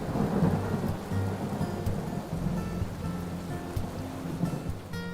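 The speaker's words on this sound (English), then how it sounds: "it rained heavily that night and all the pots got ruined due to the rain" Heavy rain pours steadily at night, with a dense, continuous roar of drops and low rumbling thunder underneath.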